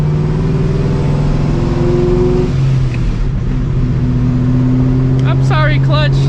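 A straight-piped, supercharged New Edge Mustang GT engine drones loud and close with rising revs and shifts on a residential street, while a voice talks over it.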